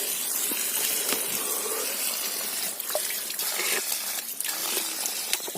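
Water flowing hard at a spring or outdoor tap where a bottle is being filled, a loud continuous gushing splash heard close up with no voices.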